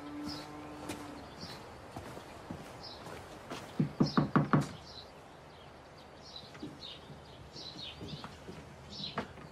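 A quick series of four or five sharp knocks on a door sounds near the middle, with a few fainter taps and bird calls in a quiet background.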